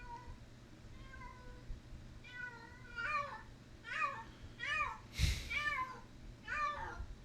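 A pet cat meows repeatedly in a home, a series of clear, fairly close calls spaced about a second apart, with a brief louder thump partway through.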